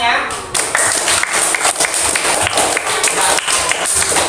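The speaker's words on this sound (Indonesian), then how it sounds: "Beri tepuk tangan dulu untuk kalian semuanya." Students in a classroom clap for group presentations, a dense burst of hand claps filling the room with a voice talking over it.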